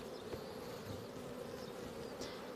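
A large honey bee swarm drones in a continuous, even buzz, faint and slightly distant, with occasional individual bees passing closer.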